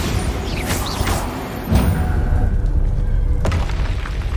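A Bombarda explosion spell in a Hogwarts video game goes off as a deep booming blast with a whooshing rush, followed by rumbling debris and ambient game noise.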